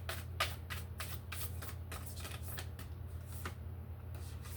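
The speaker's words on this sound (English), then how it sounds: "Give it one more shuffle here." Tarot cards are shuffled in a quick series of crisp riffling flutters and soft slaps, close by and fairly quiet, over a low hum.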